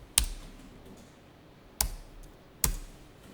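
Three separate sharp clicks of keys pressed on a computer keyboard, spaced more than a second apart, close and crisp against quiet room tone.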